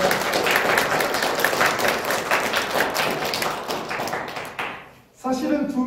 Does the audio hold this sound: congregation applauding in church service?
yes